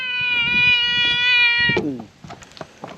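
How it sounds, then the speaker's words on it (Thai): A cat meows loudly at a Thai scenic viewpoint, one long drawn-out meow followed by a shorter one, then quieter rustling and handling sounds. "นี่ไงแมว ทุกคน ผมเจอแมวครับ นี่แมว"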